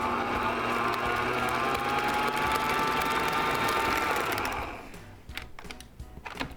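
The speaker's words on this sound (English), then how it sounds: "Let's get our mixer going." An electric mixer whirs steadily at close range, beating pink-tinted cupcake frosting in a bowl; the motor runs continuously for several seconds, then stops and gives way to a few clattering handling sounds.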